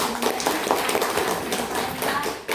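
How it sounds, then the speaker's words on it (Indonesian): An audience claps for a presenter at an indoor session, a dense, steady patter of many hands that fills the whole moment at moderate loudness. "Kita beri tepuk tangan dulu"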